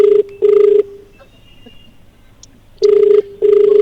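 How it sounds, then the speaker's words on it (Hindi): Ringback tone of an outgoing phone call to an education officer in Bihar: two pairs of steady electronic ring bursts, one near the start and one near the end, with a quiet gap between them and no talk. "रिंग जा रही है"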